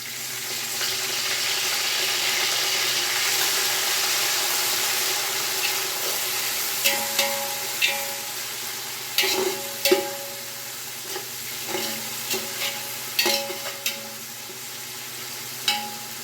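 Onions are frying in a pan with a handful of mint and some coriander leaves, for a vegetable biryani. A continuous close sizzle runs throughout, broken by repeated scraping and stirring clatters in the second half.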